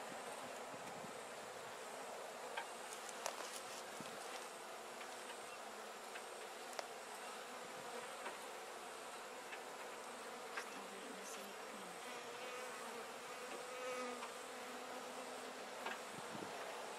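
Dense honeybee swarm droning steadily around hive boxes outdoors, a continuous loud buzz with individual bees passing close now and then.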